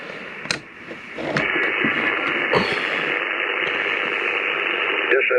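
Ham radio receiver on a 40 m end-fed antenna hisses with steady loud static after a couple of clicks, a constant band of noise filling the clip.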